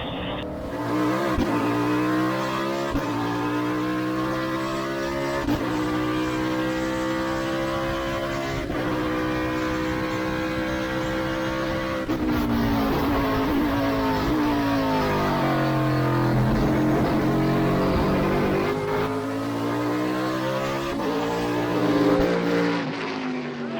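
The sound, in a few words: Trans Am race cars racing at Charlotte Motor Speedway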